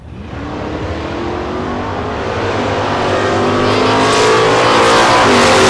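Drag racing cars launch side by side, a Venom Energy Camaro and a Cutlass, their engines roaring hard and climbing steadily in pitch and loudness as they accelerate away.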